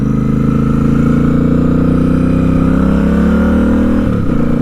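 A custom Royal Enfield Interceptor 650 motorcycle with aftermarket exhausts runs loud and close, a steady throaty drone whose pitch slowly sinks, then shifts near the end, with no talk.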